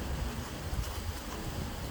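Steady wind noise buffets the microphone outdoors, a continuous low rumble with no talk.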